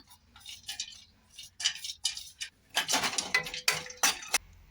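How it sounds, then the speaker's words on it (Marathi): Cashews, almonds and pistachios are stirred in ghee in a metal kadai, giving irregular clinks and scrapes of a spoon against the pan, with no talking. "इथं आता मी ड्रायफ्रूट असे परतून घेते तुपामध्ये"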